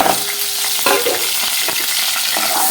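Chopped onion frying with mutton keema for a keema curry, a loud continuous sizzle broken by scraping stirs and small clatters of a spoon in the pan, no voices.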